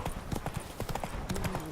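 Horse hooves clip-clop at a quick gallop in The Witcher 3, a brisk run of close, rhythmic hoof beats over a short stretch with a faint voice beneath.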